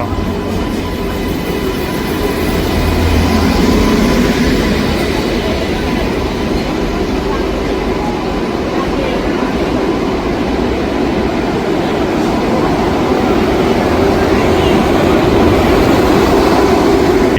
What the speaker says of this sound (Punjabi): ਟ੍ਰੇਨ ਜਿਹੜੀ ਆਪਣੇ ਆ ਗਈ ਆ ਦਾਦਰ ਐਕਸਪ੍ਰੈਸ 11057